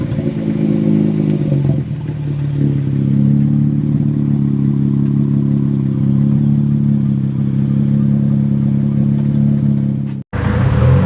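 Steady low engine drone and road rumble from inside a 2024 Nissan 400z on a test drive, holding constant for about ten seconds before a brief drop-out, with no talking.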